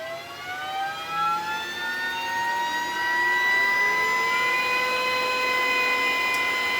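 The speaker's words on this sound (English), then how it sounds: "So that's the inherent Glowforge fan." A Glowforge laser cutter's built-in exhaust fan runs close by with a loud, steady high-pitched whine, its tones slowly rising as it spins up, alone without talk.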